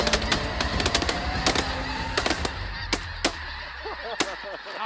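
A big flock of snow geese honks continuously as the birds land during a hunt. The calls overlap densely, loud and close, and sharp shotgun blasts punctuate them now and then.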